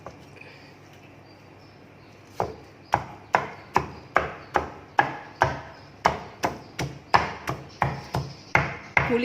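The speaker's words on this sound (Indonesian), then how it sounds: "Saya cincang separuh halus dulu, nanti saya akan cincang lagi sekali semua" A knife chops satay ingredients on a board, quiet at first, then about twenty sharp, evenly spaced strikes in a steady rhythm, close and clear.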